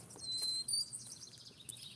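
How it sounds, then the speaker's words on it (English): A pet bird gives a few high, thin chirps and a squeaky whistle that seems to copy some other sound, close by and fairly faint over a low background hum. "I don't think that's his natural chirp."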